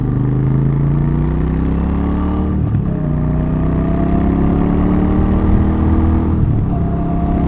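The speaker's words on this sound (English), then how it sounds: "Very pleasing exhaust note." A Royal Enfield Super Meteor 650 parallel-twin motorcycle drones loudly with a throaty exhaust, pitch climbing steadily through the gears with brief dips at shifts, close and continuous.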